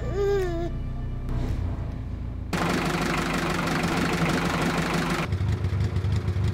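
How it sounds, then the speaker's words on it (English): A narrowboat's diesel engine running at Shardlow: a steady, loud mechanical drone that shifts in character between sections, a brief tonal whistle at the start, then continuous chugging hum close by with no talking. "I've got Holly's engine up and running."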